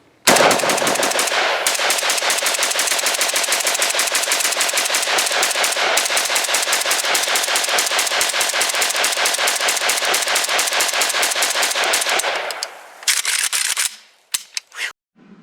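A Romanian AES-10B rifle fires on full auto in a long, loud, unbroken string of rapid shots lasting about twelve seconds, then a couple of short bursts and scattered single sounds as the firing stops.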